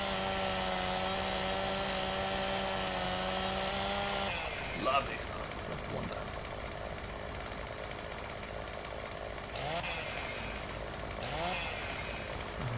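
A chainsaw cutting branches in Farming Simulator 17 drones steadily for about four seconds, then cuts out, leaving a quieter mechanical background while someone talks briefly.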